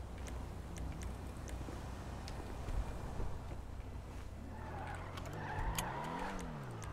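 Car engine running in a video game, a steady low drone under faint clicks and tonal sweeps, growing a little busier toward the end, with no talk over it.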